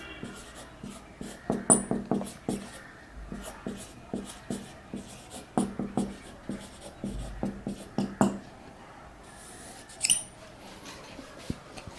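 Marker or chalk writing a reaction-coordinate graph on a classroom board during a chemistry lecture: clusters of close, squeaky and tapping strokes come in bursts with short pauses, with a faint voice only briefly.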